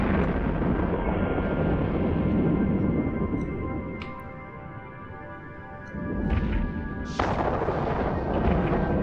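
Dense, rumbling barrage of gunfire and blasts in the space game EVE Online, loud and continuous, easing briefly midway before surging back with sharp bursts.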